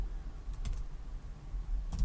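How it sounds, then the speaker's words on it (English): A few quick keystrokes on a computer keyboard type out an HTML input tag, with soft clustered clicks near the start and again at the end over a quiet room hum. "I'm going to start typing an input tag"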